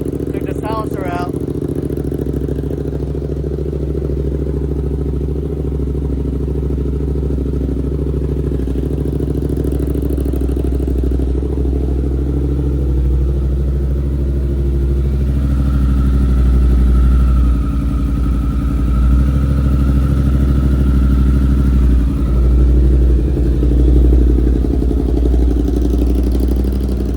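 A Suzuki GSX8R motorcycle with a Delkevic exhaust and its silencer removed runs at a steady, loud low rumble throughout, rising slightly in the second half.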